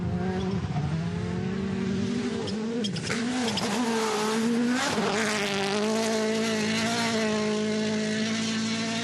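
A rally car's engine revs and whines continuously on a stage of the 2023 WRC Safari Rally Kenya, pitch rising and falling through gear changes, loud and close with no talking.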